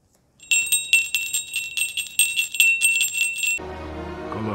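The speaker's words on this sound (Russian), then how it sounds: "А вы слышите звон колокольчика?" A small bell rings in a rapid repeated jingle for about three seconds, bright and close, then stops as soft music rises, part of a Christmas train scene.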